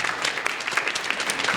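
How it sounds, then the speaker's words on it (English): A room audience applauds a new intern on a live radio-hour stage show, with steady, close clapping from many hands and no talking. "Give a round of applause for Jerry."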